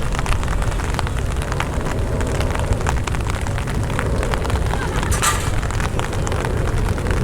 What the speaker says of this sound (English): All those droplets that you hear right now, that's raindrops.